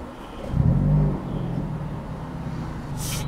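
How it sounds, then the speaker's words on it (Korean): A car with a manual transmission idles with a low, steady rumble, briefly revving up into a throaty exhaust note before settling back to idle. "배기 소리 한번 들려주세요."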